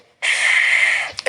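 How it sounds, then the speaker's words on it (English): A deep inhale during a lung breathing exercise, one long, close, steady breath drawn in for about a second, followed by a short catch and the start of another breath. "First exercise, inhale"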